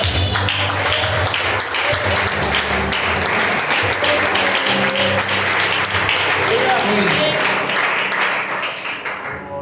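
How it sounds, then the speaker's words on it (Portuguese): A church congregation claps together during a worship service, dense continuous clapping with voices and a low hum beneath it, steady and loud before easing slightly at the end. "Essas palmas é para quem mesmo."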